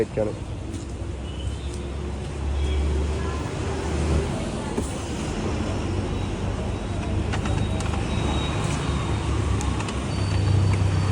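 A car drives along with a steady low engine and road rumble heard from inside the cabin, while people talk over it.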